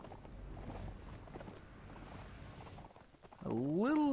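Horse hooves clip-clop steadily in the video game Mount and Blade, with voices talking over them, then a loud rising, wavering cry near the end.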